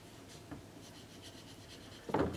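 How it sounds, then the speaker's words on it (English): A soft 6B pencil scratching lines onto a sheet of paper, quiet rubbing strokes that grow into a louder scraping burst near the end, with no voices. "we're going to make a speaker by drawing it onto a piece of paper with a pencil"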